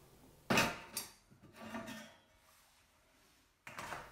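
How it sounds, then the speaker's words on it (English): Screwdriver prying open the plastic service access panel on a Bosch dishwasher: a sharp close clack, then a few softer scraping and rattling clicks, a quiet pause, and a final snap of plastic. "Using a screwdriver, pry open the access panel."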